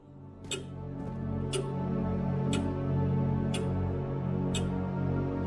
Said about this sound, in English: That's a very loud clock.